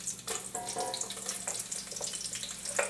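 Olive oil mixed with chorizo fat hisses and crackles in a large clay cazuela for paella, a moderately loud, close, bubbling sizzle with irregular spattering bursts and no voices.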